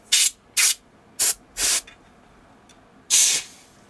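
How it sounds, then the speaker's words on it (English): A can of compressed air blasting short bursts during a laptop teardown: five sharp hissing sprays, four quick and the last longer, loud and close, with silence between them. "I still might hit everything with some compressed air if I can find it."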